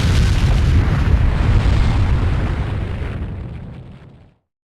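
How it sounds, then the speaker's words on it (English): A big explosion in the video game Naruto Shippuden: Ultimate Ninja Impact, a loud booming blast with a sustained roar that slowly fades out into silence. "an explosion!"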